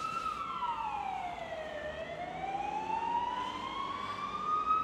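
An ambulance siren wails loudly as the vehicle pulls away, one long tone sweeping slowly down and then back up over about five seconds, steady and close, with road noise underneath and no talking.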